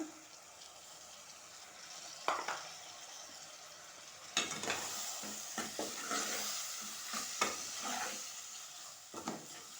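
Tomatoes frying in oil in a pan for an eggplant curry, a soft hiss of sizzling with scattered scraping strokes of stirring, close but fairly quiet, no talking.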